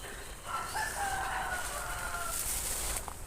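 A single rooster crows one long, drawn-out call that rises and holds before trailing off, heard from a moderate distance over a steady background hiss.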